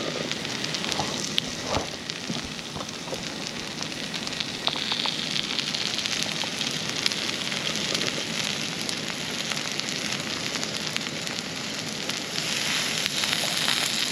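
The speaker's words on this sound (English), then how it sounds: "They're starting to sizzle." Food fries on a Fire-Maple Saturn camping stove in an outdoor ATV cooking setup, giving a continuous close, bright sizzle and crackle that holds steady throughout with occasional sharper pops and no voices.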